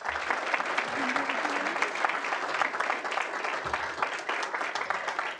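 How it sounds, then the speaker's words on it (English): Steady applause fills the room at a board of education meeting, an even wash of many hands clapping continuously at moderate distance, with faint talk underneath. "Another great round of applause for our newly certified National Board teachers."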